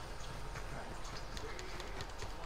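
Horse hooves clip-clop at a slow walking pace in Red Dead Redemption 2, steady rhythmic hoofbeats over a busy game ambience without speech.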